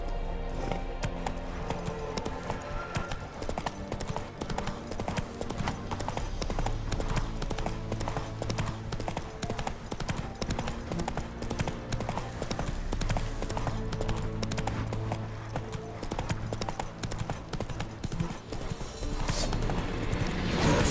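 Roach the horse gallops through The Witcher 3, a steady close clip-clop of hooves running continuously over a dense bed of game ambience and music, with a whinny along the way.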